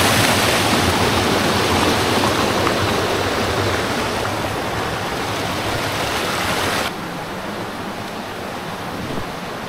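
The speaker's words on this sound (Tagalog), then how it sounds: "grabe, rumaragasa na yung tubig" A forest stream rushes hard, its loud, dense roar of churning water holding steady and close before dropping suddenly to a somewhat quieter but still continuous flow near the end.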